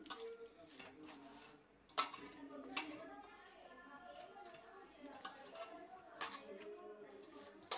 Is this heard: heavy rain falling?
no